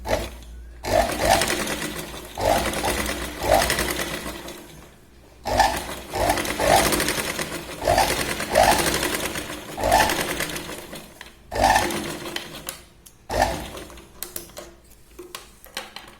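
A sewing machine runs a double line of stitching on a Katori blouse in repeated loud, rapid bursts of a few seconds each, separated by short pauses, close up and alone.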